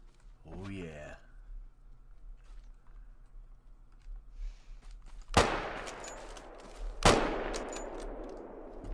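Two sharp, loud rifle shots ring out in the hunting video game theHunter: Call of the Wild, each with a decaying echo, after a quieter stretch with a brief voice near the start.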